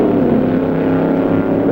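Slingshot dragster with a car body and a 1957 Chrysler engine racing at a drag strip, a loud continuous engine roar holding steady and close throughout, with no speech.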